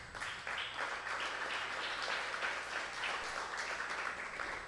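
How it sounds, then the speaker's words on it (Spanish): A congregation applauds during a church service: a continuous, fairly even crowd clapping that stays steady throughout, with no talking over it. "Démosle un aplauso al Rey."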